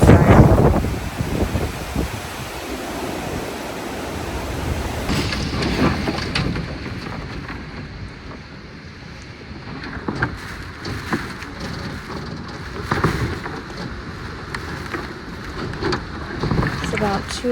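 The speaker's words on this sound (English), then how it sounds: "the wind is whipping like crazy." Hurricane Milton wind gusting hard at night, loud roaring rushes battering the microphone and rising and falling in waves, with rattling debris-like noise underneath.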